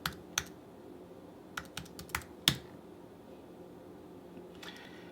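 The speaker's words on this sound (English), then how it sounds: "you're going to want to make sure you get that typed in carefully. And retype it again." Scattered keystrokes on a computer keyboard while a password is entered during a Raspberry Pi setup, a few sharp isolated clicks with pauses between them in a quiet room with faint fan-like hiss.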